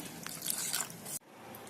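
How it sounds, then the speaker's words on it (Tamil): Wet, bubbling simmer of a thick tomato gravy (kosthu) in a pot, with soft pops and drips, close and steady, cutting off abruptly partway. "கோஸ்து இப்போ நல்லா கொதிக்குது பாருங்கள்"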